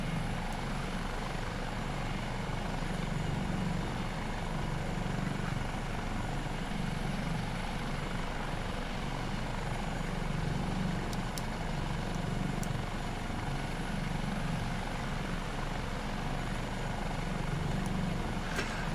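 An HH-65A Dolphin helicopter in Microsoft Flight Simulator 2024 drones steadily for the whole stretch, a low pulsing rotor beat under a constant turbine whine at even loudness, with no talking.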